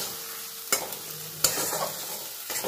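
Spice paste with tomato sizzles in a pan while being stirred, the steady frying hiss broken by several sharp scraping strokes of the spoon.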